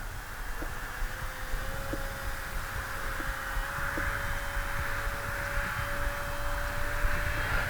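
A Skynetic Dragonfly RC model airplane flies overhead, its small electric motor giving a steady, thin whine that holds level and continuous under broad wind-like noise for the whole stretch, with no talking.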